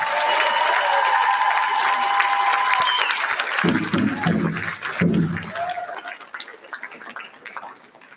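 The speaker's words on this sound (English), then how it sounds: "Give her a big round of applause" A crowd at the White Earth State of the Nation event gives a woman a big round of applause, dense clapping filling the room for several seconds, with voices speaking over it partway through before it tapers off.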